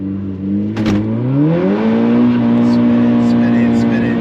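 Tuned Stage 2 VW Golf GTI accelerating hard from inside the cabin, engine note climbing steadily in pitch and holding loud, with voices talking over it.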